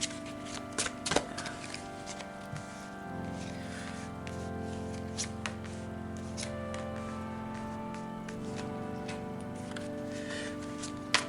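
A deck of tarot cards is shuffled for a new spread, with soft riffling and a few crisp clicks. The shuffling is most prominent early on, over sustained background music.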